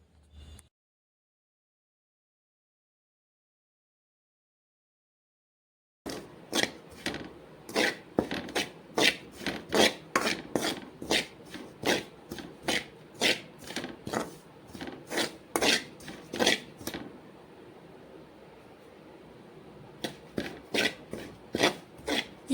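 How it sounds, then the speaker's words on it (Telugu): Desiccated coconut powder is fried in ghee in a pan over a low flame. After a quiet start, a quick, regular run of dry scraping strokes follows, with no talking. "అదే గిన్నెలో మళ్ళీ నెయ్యి వేసుకొని కొబ్బరి పొడి వేసుకొని"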